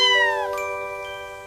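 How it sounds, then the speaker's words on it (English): A cat gives a single clear meow that glides downward in pitch, followed by a soft ringing chime tone that lingers and fades. "Meow."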